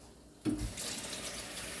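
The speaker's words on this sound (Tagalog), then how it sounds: "dadagdagan po natin to ng tubig." Tap water pours into a cooking pot being topped up for boiling pork leg, starting abruptly with a splash and then running as a steady close stream.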